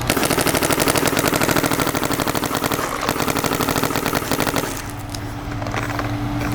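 A Planet Eclipse Etha 3 paintball marker fires a long, rapid string of sharp, evenly spaced shots at close range. The burst ends and a softer mechanical hum follows.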